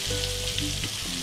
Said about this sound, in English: Now I'm going to turn the ball to get it evenly fried.